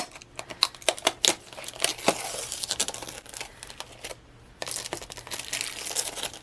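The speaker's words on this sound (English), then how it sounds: "So again, I need to pull the plastic off." Plastic wrapping crinkles and tears as it is pulled off a wide dashboard-style bookmark at a craft table, a run of sharp close crackles and rips with brief pauses between them.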